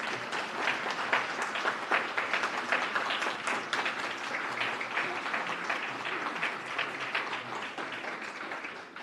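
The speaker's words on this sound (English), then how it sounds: "Let's give them a round of applause." A hall audience applauds the debate candidates in a steady wash of many hands clapping, sustained at moderate loudness throughout with no talk over it.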